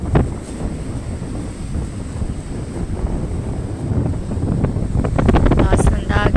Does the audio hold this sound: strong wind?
yes